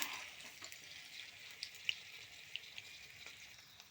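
Panikoorka bajji fry in hot oil with a faint, steady high sizzle and scattered soft pops and crackles, quiet and close, with no talking.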